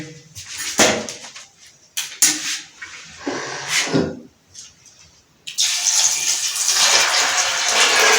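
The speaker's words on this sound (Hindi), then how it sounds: "अभी इसमें हम सबसे पहले पानी ऐड करेंगे।" Water gushes steadily into a pressure cooker holding chickpeas, a loud, continuous pour that starts partway through after a stretch of kitchen clatter and handling noises.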